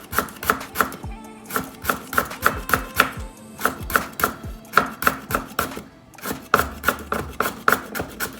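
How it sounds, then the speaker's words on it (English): A very thin knife finely minces lemongrass stalks on a board outdoors in a backyard, giving steady rapid taps in quick even bursts with brief pauses, close and crisp with no talking. "I am finely mincing it. I use this very thin knife in order to achieve this"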